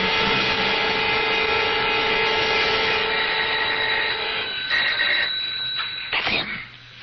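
An electric doorbell rings in an old-time radio mystery drama, a steady buzzing tone that holds for several seconds before breaking up and fading.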